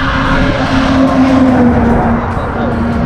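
A Kawasaki Ninja 300 motorcycle with a twin-cylinder 39-horsepower engine runs loudly and steadily up close, a constant droning hum with a slight rise in pitch, alone with no talk.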